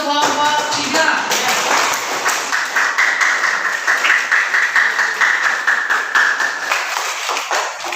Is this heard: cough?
no